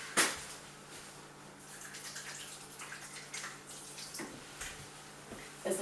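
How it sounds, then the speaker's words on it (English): Water runs steadily from a tap as hands are washed after handling raw egg while baking, a faint continuous splashing with a few louder splashes and knocks. "once I crack each egg I'm going to need to go wash my hands because I've handled raw egg"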